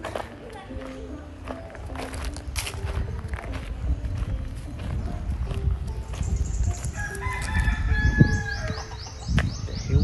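A rooster crows somewhere in the distance in Kathu Old Town, Phuket, Thailand, its call faint under steady street and walking noise with birds chirping around it.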